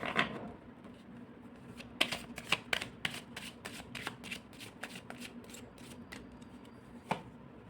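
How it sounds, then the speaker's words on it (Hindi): Tarot cards shuffled and drawn by hand, a dense papery riffle with a string of crisp snaps and flicks, the sharpest near the start, around the two-second mark and near the end, close and fairly quiet with no talking. "मैं पहले सारे कार्ड्स निकाल लेती हूँ"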